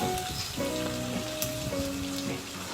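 Dried fish frying in a pan with onion and garlic paste, giving a steady, moderately quiet sizzle with soft crackles throughout and no talk.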